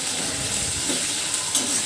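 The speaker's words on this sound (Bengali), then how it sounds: "এরপর গ্যাসের ফ্লেম মিডিয়াম রেখে এটাকে কন্টিনিউয়াসলি নেড়ে যেতে হবে।" Spinach paste stirred in a kadai over a medium gas flame, giving a soft, steady sizzle and bubbling with faint scraping of the spoon running throughout.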